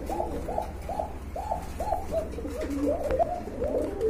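Large pigeons coo in a steady series of rounded, repeated calls close by, with the cooing growing busier and overlapping toward the end.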